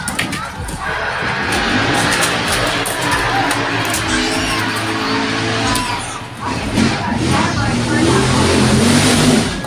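A loud car engine roars and revs continuously at a car racing show in Melbourne, with a dense, steady mechanical rumble and crowd voices mixed underneath.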